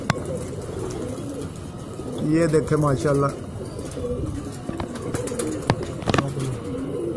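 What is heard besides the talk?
pigeons cooing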